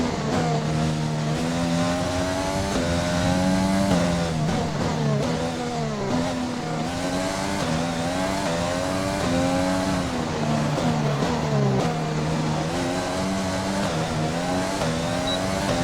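An F1 race car in the F1 2020 video game howls through a lap at a Netherlands round, engine pitch dropping under braking for a turn then rising again on acceleration, loud and continuous with shifting gear steps.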